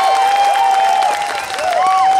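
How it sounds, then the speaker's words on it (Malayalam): Mammootty fans in a live stage-show audience break into a loud, continuous wash of clapping, with whistle-like tones riding over the crowd noise. "മമ്മൂക്ക ഫാൻസ് ഒന്ന് കൈയടിച്ചേ"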